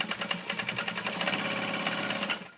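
A sewing machine runs steadily, stitching a vinyl tote bag with a brief back stitch, its rapid needle rhythm close and continuous with no talk.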